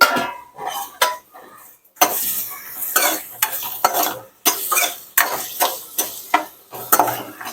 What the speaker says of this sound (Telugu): ఇప్పుడు ఉల్లిపాయల్ని కూడా దోరగా వేయించుకోవాలి